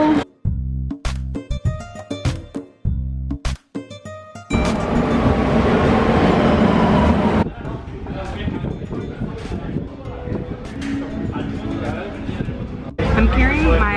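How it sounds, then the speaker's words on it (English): A Barcelona metro train ride brings a loud, steady rushing rumble that fills the middle of the stretch. Voices talk throughout, and some music plays at the start. "Getting on the metro."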